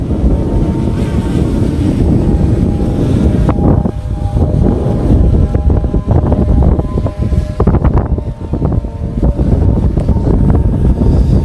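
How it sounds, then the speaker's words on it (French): Loud, continuous wind buffeting the microphone, a heavy low rumble that surges and gusts throughout with no voices. "C'est énorme, le vent est énorme."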